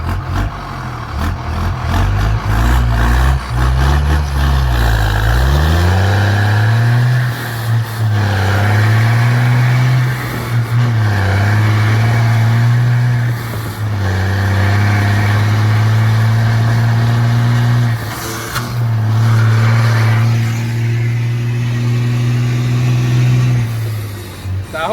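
A car with a loud straight-pipe exhaust, hauling a heavy load of passion fruit, pulls away and climbs through several gear changes, its engine note rising and dropping with each shift, loud and close and continuous throughout.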